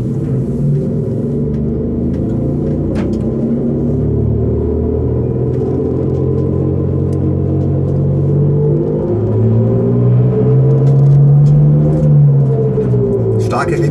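A Hyundai RN22E electric car emits a synthetic drive sound while moving, a steady rumbling, droning tone with harmonic layers that rise and fall with speed, loud and continuous throughout.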